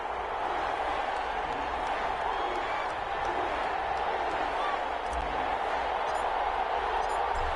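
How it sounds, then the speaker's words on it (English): A stadium crowd in an EA Sports NFL game before a Dallas Cowboys versus New Orleans Saints matchup fills the scene with a steady, broad roar, loud and continuous with no distinct claps or cheers standing out. "This crowd is ready as their guys get set to match up between the Dallas Cowboys and the New Orleans Saints."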